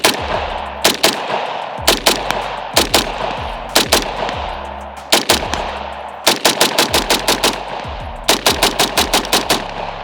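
SIG MCX rifle firing repeated follow-up shots, sharp loud cracks in quick bursts of two to six rounds separated by short pauses, close and alone.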